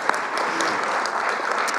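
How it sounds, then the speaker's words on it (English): Audience applause fills a school board of education meeting, steady clapping from a crowd sustained evenly for a couple of seconds, moderately loud. "Applause."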